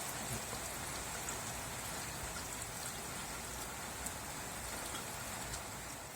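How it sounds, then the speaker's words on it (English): Rain drums steadily on the fabric roof of a Saab 9-3 convertible, a dense, even patter heard from inside the car without a break. "Watch the rain hitting a convertible roof."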